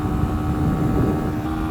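A 2022 Sinnis SM-XE motorcycle runs flat out in sixth gear, a constant rushing engine roar mixed with wind noise that stays loud and unbroken for the whole short stretch.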